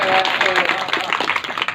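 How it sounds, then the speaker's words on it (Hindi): Audience at a Diwali poetry recital (kavi sammelan) breaking into loud clapping, a dense burst of applause with a voice briefly audible over it early on, continuing unevenly through the short clip. "एक बार जोरदार तालियां बजाइए"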